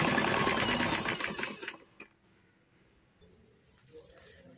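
Sewing machine stitching trouser fabric runs in a fast, steady mechanical patter for about two seconds, then stops abruptly, leaving quiet room tone with faint handling clicks.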